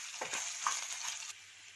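Ginger and chillies sauté in oil for ginger pickle, a bright close sizzle with a couple of soft stirring strokes that drops away abruptly to near quiet before the end.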